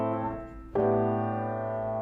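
Piano chords played over a low A bass note, a held chord followed by a fresh struck chord that rings out, close, solo and without voices.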